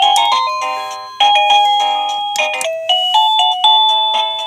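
A Liztek wireless doorbell chime plays a bright electronic bell melody, a sequence of clear ringing tones that each decay before the next note strikes, loud and close with no talking.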